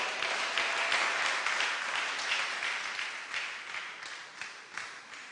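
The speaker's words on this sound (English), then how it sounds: "Another round of applause to Corey Cox." Audience applause at a political party's annual conference rally, a steady dense wash of clapping that holds throughout and slowly thins toward the end, with no talk.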